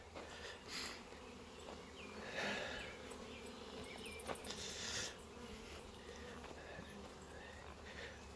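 Honey bees feeding on dandelions buzz steadily nearby, a continuous droning hum with individual bees swelling louder as they pass close.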